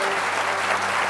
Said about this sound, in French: Je crois qu'on peut les applaudir bien fort.